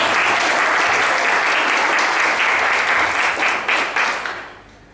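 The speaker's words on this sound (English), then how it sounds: "Just a clap." An audience claps after a conference talk, dense steady applause that holds for several seconds and then fades out.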